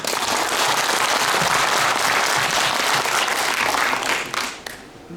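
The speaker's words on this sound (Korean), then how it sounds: "참여하신 분들의 힘찬 박수로 시작하겠습니다" An audience at a local election candidates' debate for Buan County governor applauds loudly and steadily, a dense wash of many hands that fades out near the end.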